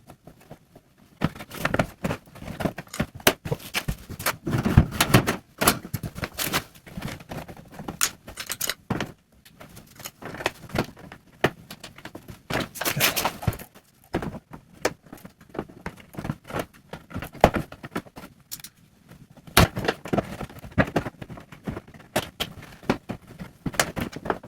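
Loose plastic clips being pried and popped above and below a car's parking lamp, heard as irregular close clicks, snaps and plastic rattles spread across the whole stretch, with no talking.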